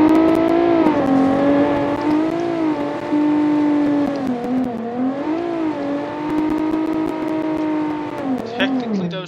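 Brute Ecobox, a car custom-built in Automation, driving in BeamNG with a steady engine drone whose pitch rises and dips as it accelerates and eases off; loud and continuous, with a brief rev flare near the end.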